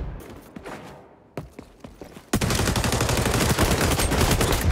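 Submachine gun fire in the online shooter XDefiant, sparse footsteps and distant shots giving way to a sustained loud burst of rapid automatic gunfire, no talk.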